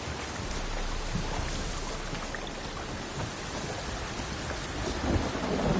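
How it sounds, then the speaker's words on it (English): Rain and thunder in a video game, a dense, continuous downpour hiss with low rolling rumbles throughout, steady and enveloping with no talk. "Oh, it's drizzling."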